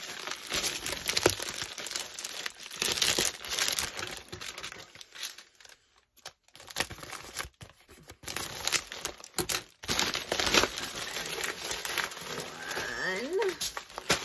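Paper wrapping on a craft package crinkles and tears as it is carefully opened, with steady rustling throughout and brief pauses, under occasional talk.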